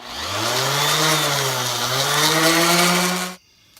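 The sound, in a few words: orbital sander sanding a panel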